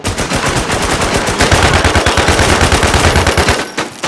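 Rapid automatic gunfire in the Infestation video game, a loud sustained burst of rattling shots that runs almost unbroken before cutting off near the end.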